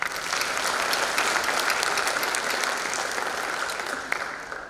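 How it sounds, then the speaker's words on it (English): Sustained applause from a jazz festival audience in Mifflin County for the pianist, a dense, steady wash of many hands clapping that holds evenly for several seconds and tapers slightly near the end. "she deserves a round of applause as well"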